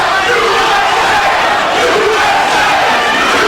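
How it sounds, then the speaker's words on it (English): Boxing arena crowd at a Kostya Tszyu versus Vince Phillips bout roars in a sustained, loud chant of "USA" to rally Phillips, a dense wall of voices filling the hall without pause. "Crowd chants USA to try to bolster the hopes of Vince Phillips"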